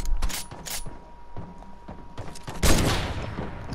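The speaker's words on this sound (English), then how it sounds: "Let's have a sniper battle then." Sniper rifle shots in a video game sniper battle ring out as a few sharp, loud reports spread across the stretch, with a heavier blast near the end and game noise between.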